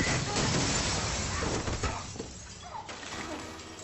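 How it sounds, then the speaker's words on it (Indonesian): Bulletproof glass shatters in an action film, a loud burst of breaking and crashing that spreads into scattered debris and fades over a few seconds. "Kaca anti peluru langsung meledak."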